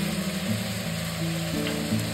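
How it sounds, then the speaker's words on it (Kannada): Mutton frying in oil with spices for biryani sizzles loudly and steadily, with a continuous close hiss and occasional stirring. "ಇದಿಷ್ಟನ್ನು ಹಾಕೊಂಡು ಎಣ್ಣೆ ಚೆನ್ನಾಗಿ ರೋಸ್ಟ್ ಮಾಡ್ಕೊಳ್ತೀನಿ"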